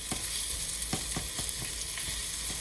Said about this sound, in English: I'm going to start stirring this so the oil can get on everything